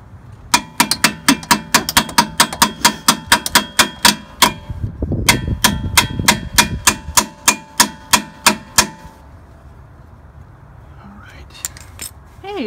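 Sharp metallic strikes of an adjustable hammer on metal during a vehicle spacer lift install ring out in a steady, rapid series, pausing briefly midway and then resuming, with faint talk and shuffling underneath.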